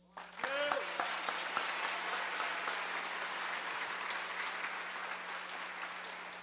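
Applause breaks out suddenly from a church audience and carries on as a dense, steady wash of clapping, with a few shouts at the start and voices mixed in.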